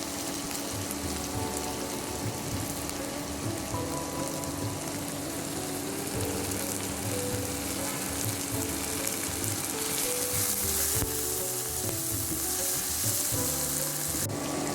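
Green chili and curry leaves sizzle in hot oil in a pan for Kerala sambar, a dense, continuous crackling hiss that stays loud and even throughout, with no one talking.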